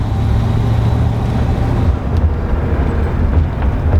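An old car's engine purrs steadily as it drives, a loud, continuous low rumble close by that holds throughout without a break.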